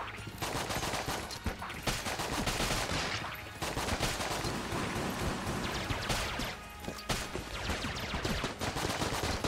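The Rubidyne Mark II fires in Enter the Gungeon, a dense, loud barrage of rapid video-game gunshots with brief lulls between bursts.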